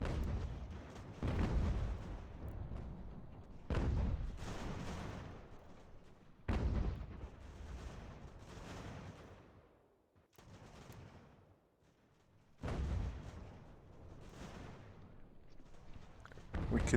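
Cannon artillery in a strategy war game set in the American Revolution booms in repeated heavy volleys, each a loud blast fading into rumble, with a few seconds between shots.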